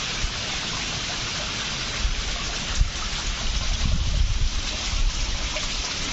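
Water drips and falls from above inside a dark rock tunnel on a trek at Penchalakona's pools, making a steady close rush with patter and scattered louder splashes, no voices.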